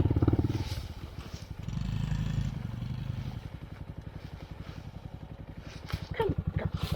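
Honda Monkey motorcycle fitted with a Yoshimura RS3+ exhaust and spark arrestor, idling up close with a rapid, throaty pulsing putter and a short rev near the end, with brief voice and clatter.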